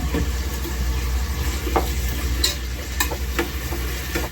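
Onions and green chillies sizzle in a hot pan with a steady close frying hiss, broken by a few sharp clinks and scrapes of a stirring spoon.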